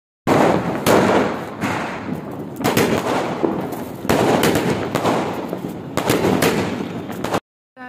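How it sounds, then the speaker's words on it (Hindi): Sky shot fireworks bursting during Diwali celebrations, a rapid series of loud, close cracks and booms in repeated volleys with crackling between blasts, ending abruptly. "स्काई शॉट की बारी, द फेवरेट पार्ट।"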